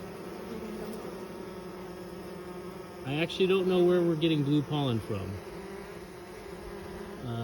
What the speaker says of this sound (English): I could just watch these bees all day